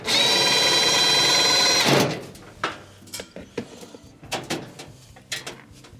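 A screw is driven and tightened on the bake igniter of an Amana stove, with a steady whirring tool drone for about two seconds and then scattered clicks and clatter of parts.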